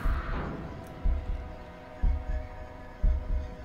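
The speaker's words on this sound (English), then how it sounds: "Just the heartbeat sound." Heartbeat sound effect from the horror game Beyond Hanwell, with deep low thumps pulsing about once per second over a faint hum.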